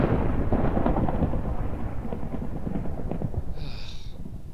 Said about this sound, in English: I just got scared by lightning.